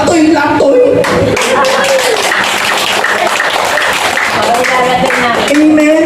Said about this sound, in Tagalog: ang mga palakpak ninyo kay El Shaddai